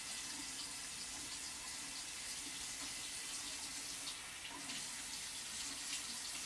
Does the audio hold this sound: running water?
yes